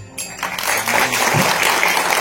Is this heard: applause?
yes